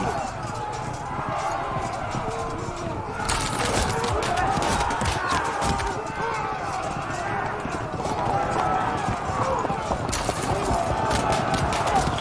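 Galloping horse hooves drum steadily as cavalry charge archers in a city in the strategy game Field of Glory II, a busy rhythmic patter under someone talking throughout.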